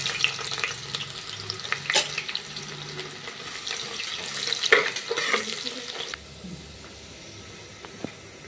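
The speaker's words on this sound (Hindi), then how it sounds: "अभी हमें तेल गरम हो गला, अभी हमें प्याज पकई दबा" Onions fry in hot oil, a busy crackling sizzle mixed with stirring and occasional clatter, fairly loud for the first six seconds, then dropping to a quieter simmer with a faint click near the end.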